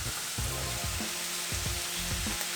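Carrots and zucchini fry in a pan with a constant close hiss of sizzling, plus rhythmic scraping and clattering as the vegetables are stirred, with no talk.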